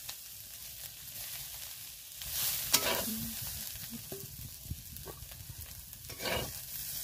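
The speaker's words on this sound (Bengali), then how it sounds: "একদম ভালো করে ভেজে নেব।" Cauliflower with chili powder fries in a pan, a soft sizzle underlying intermittent scraping and stirring strokes, with a few light metallic taps, quiet and close.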